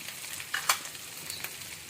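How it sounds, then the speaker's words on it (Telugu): Cut potato pieces drop into a hot frying pan with oil and are stirred, giving a soft steady sizzle with a couple of brief clattering scrapes. "పీసెస్ వేద్దాం. వేసి ఇలా కలియపెట్టినట్టు చేసి ఉప్పు, పసుపు వేసేద్దాం."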